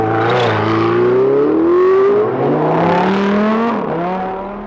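A supercar engine revs loudly and close by, its pitch climbing and sweeping in smooth waves before dropping back and fading slightly at the end, with no talking.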